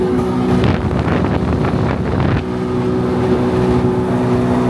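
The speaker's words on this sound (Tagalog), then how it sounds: "Balik natin ang water scooter sa ilog para ipakita ko sa iyo ang dahilan." A water scooter runs along a river with a loud, steady engine drone and rushing water, close to the microphone with wind buffeting throughout and no talking.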